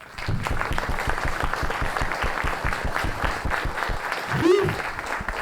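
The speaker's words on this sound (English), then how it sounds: "Please join me in welcoming him with a warm round of applause." A film festival master class audience applauds a guest coming on stage, a steady dense clapping with a brief voice rising over it near the end.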